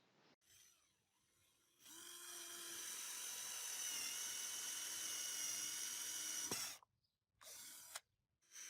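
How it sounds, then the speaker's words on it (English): A Xiaomi Tonfon cordless power drill boring holes in construction-grade and dense wood, a steady high whine running for several seconds after a short start, then cutting off with brief bursts afterward. "Now let's drill some holes."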